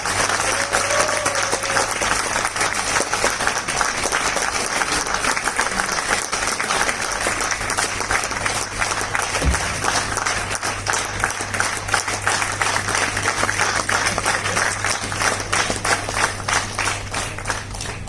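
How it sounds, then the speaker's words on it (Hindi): An indoor audience in Jaipur claps steadily for about eighteen seconds to welcome a speaker onto the stage, with a constant low hum underneath. "एक बार जबरदस्त तालियों से स्वागत कीजिएगा"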